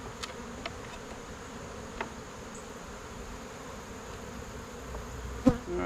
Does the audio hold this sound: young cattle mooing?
no